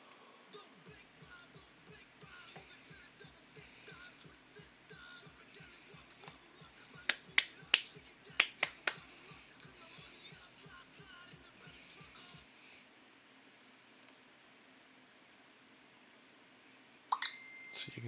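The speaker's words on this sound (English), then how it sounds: "you guys can mostly like hear my buttons clicking and stuff" Rapid, evenly spaced clicks of controller or keyboard buttons sit close under a low background bed, with a few sharper louder clicks midway, then a quieter stretch and a final cluster of taps.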